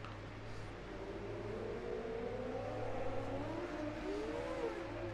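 Micro sprint race cars and a pace truck idle and rumble at a race track, a distant, steady engine drone with faint wavering revs under a constant low hum.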